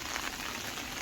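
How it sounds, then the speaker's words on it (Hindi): Heavy rain pours steadily during a bamboo trek in Meghalaya, a dense, constant hiss of drops on surfaces, close and loud throughout with no voices. "बारिश ज़ोरों का आ गया"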